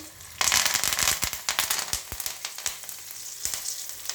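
Garlic and curry leaves splutter in hot oil with turmeric, chili powder and salt, making loud, sharp popping crackles that burst rapidly, then thin out over a steady sizzle.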